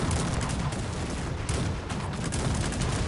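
Dense, continuous bursts of gunfire and booms in Cossacks 3, artillery depots under fire in a competitive match, loud and overlapping throughout with no pauses.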